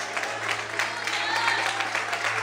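A church congregation applauds in steady, dense clapping that fills the whole moment, with a low constant hum underneath and faint voices mixed in.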